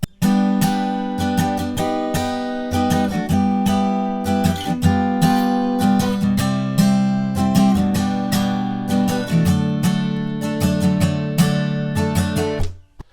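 Strummed acoustic guitar plays the bridge of a song, repeated down-down-up strokes in an even rhythm, close and solo without talk, cut off sharply at the end.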